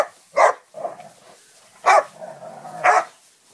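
A dog barks three times at irregular intervals, each bark sharp and close, with quieter whining and movement between them.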